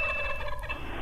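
A blue jay imitates a red-tailed hawk with a harsh, raspy scream that holds for about a second, close and loud, with no speech.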